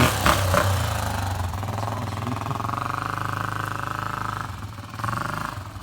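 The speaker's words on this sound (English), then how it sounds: "Little man Carson riding his dad's dirt bike, first time, XR 250" A Honda XR 250 dirt bike engine runs steadily and close by for the whole stretch, a continuous buzzing drone with slight rises in pitch and no voices over it.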